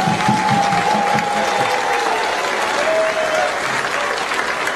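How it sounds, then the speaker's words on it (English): Audience at a 2014 university graduation ceremony applauds the graduates, a loud, sustained wash of clapping from a large crowd that fills the hall without a break. "Applause."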